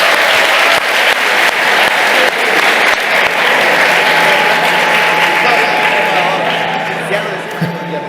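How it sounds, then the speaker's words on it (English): Loud, sustained applause from an audience at the HackUPC 2025 hackathon closing ceremony, steady clapping filling the room throughout with crowd noise and some voices mixed in, fading slightly toward the end. "A round of applause again."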